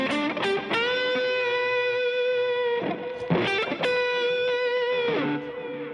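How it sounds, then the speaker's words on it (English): An electric guitar played through a distortion effect rings out in sustained, gritty chords and notes, re-struck a few times with bright buzzing harmonics, loud and alone. "Say I put distortion on it. You're going to hear a lot of loud noises now."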